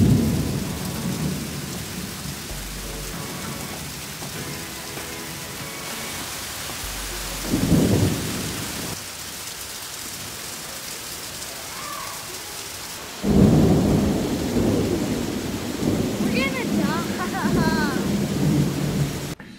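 Heavy rain pours during a late-summer storm while thunder rumbles in bursts, deep rolls swelling over the steady hiss, with faint voices now and then under the downpour.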